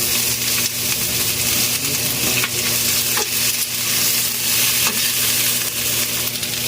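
Onions sizzle and fry in hot oil with black pepper, a steady dense crackle with occasional stirring scrapes throughout, close and loud with no talking.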